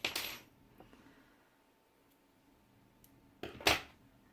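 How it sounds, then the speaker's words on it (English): Scissors snip through crochet yarn in two short, crisp cuts, one at the start and another near the end, with quiet room tone between them. "And then we are going to cut the yarn"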